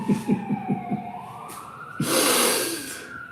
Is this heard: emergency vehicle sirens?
yes